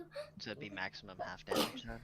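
A single sneeze near the end of a tabletop role-playing game session, breaking through people chatting around a table.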